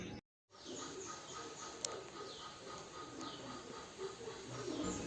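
Several hornbill calls ring out over a constant hiss of outdoor background noise in the Konkan countryside, moderately distant and not very loud.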